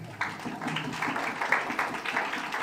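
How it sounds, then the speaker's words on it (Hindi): A church congregation claps steadily throughout, a dense patter of applause at moderate volume with no voices on top. "तो भाई के लिए ज़ोरदार तालियां।"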